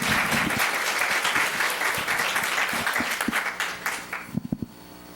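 An audience at a 4-H youth public speaking contest claps in a sustained round of applause that thins out near the end into a few last scattered, distinct claps.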